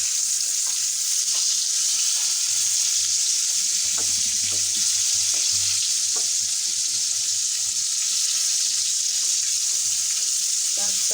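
Floured chicken pieces frying in hot oil, a steady bright sizzle running throughout with occasional soft pops and faint clatter beneath, close and continuous, no voices.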